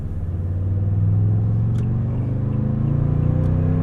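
Toyota Tundra with a 5.7-liter V8 accelerates on a road, a deep steady engine rumble building and holding loud and close from inside the truck, with no talk.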